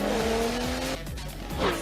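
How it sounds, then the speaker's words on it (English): Tiny Pocket Racers micro remote-control toy cars race with a sharp tire squeal at the start, a pause in the middle, then a second high squeal near the end, all close and loud with no talking. "Pocket Racers, the furiously fast, wickedly fun micro RC cars you can race like a pro"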